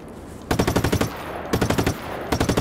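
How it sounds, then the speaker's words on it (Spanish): Automatic gunfire in the video game Just Cause 3, three loud rapid bursts of evenly spaced shots separated by short pauses, with no talking over them. "Ha disparado."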